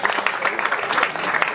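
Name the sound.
applause at gala dinner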